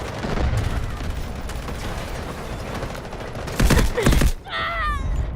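Artillery barrage and gunfire in the shooter Delta Force: a dense roaring bed of distant fire, then two loud close blasts near the end, followed by a brief voice.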